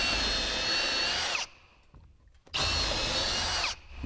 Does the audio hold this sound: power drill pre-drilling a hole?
yes